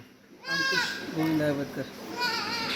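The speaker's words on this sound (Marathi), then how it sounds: "आज आपल्याला कवर करणार आहोत हे छोटे छोटे करडं आहेत आणि ह्या शेळ्या आहेत" Osmanabadi goats and young kids on a farm in Latur, Maharashtra, bleating in a few close, wavering calls that overlap one another after a brief quiet start.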